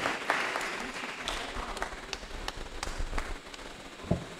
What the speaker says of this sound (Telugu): గట్టిగా చప్పట్లతో అభినందించవలసిందిగా కోరుచు